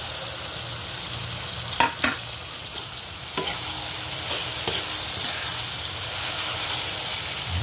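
Ground pork frying in a pan with a steady sizzle, broken by a few sharp scrapes and knocks of stirring near the start, then a continuous even frying hiss without talk.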